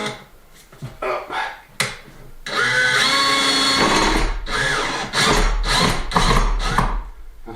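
Power drill driving 15mm screws into a hay loft floor during renovation, a few short clicks and starts followed by a sustained whirring drive that bogs and surges in pulses, close and loud.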